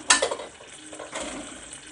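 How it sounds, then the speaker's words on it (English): Spoon stirring Affang soup in a pot, a brief close scrape and clink of utensil against the pot over a soft simmering sizzle, with no talking. "Stir a bit and cover for another 1 minute."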